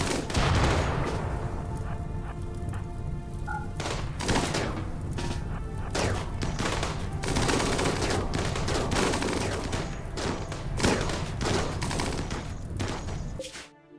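Dense gunfire in the colony-building video game RimWorld, rapid overlapping shots and bursts with thuds and crashes, loud and continuous throughout before cutting off at the end.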